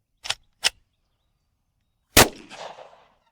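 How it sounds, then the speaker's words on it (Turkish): A 10mm pistol fired into a tree outdoors: two light sharp cracks early, then after a pause one loud report with a short ringing, rumbling tail. "Sırada 10 mil var."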